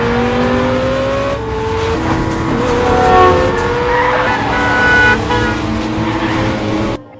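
Action-film car chase: engines roar as tires skid and squeal continuously, loud and close, with overlapping screeches throughout and an abrupt cut at the end.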